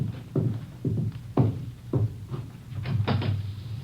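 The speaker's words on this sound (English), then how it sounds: "Somebody at your back door." Several sharp knocks on a back door in a radio drama, irregular raps spread across a few seconds, fairly close and alone with no voices.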